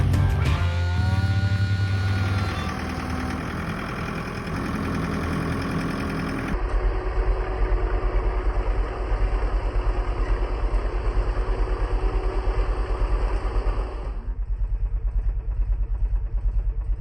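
A four-wheeler ATV engine idles steadily and loudly up close, a continuous low rumble that drops in tone partway through and keeps running to the end with no talk over it.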